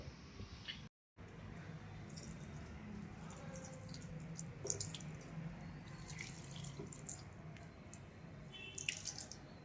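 Water drains away through a model channel with a faint, continuous trickle and scattered soft drips and splashes, heard alone at low volume.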